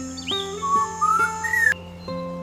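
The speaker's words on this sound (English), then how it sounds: "The superb lyribird, a master mimic, fans its incredible tail, filling the forest with sound." A superb lyrebird singing in forest, a bright, clear whistled phrase of sliding and stepping tones with a sustained tonal undertone, loud and close, ending abruptly.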